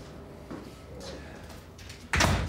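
A door in a German home is shut with a sudden loud thud near the end, after a quiet stretch of faint room sounds and small handling noises.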